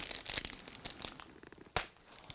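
A glass ampoule is snapped off by hand through a plastic bag after being scored with scissors, giving soft plastic crinkling and rustling throughout, with one sharp snap near the end.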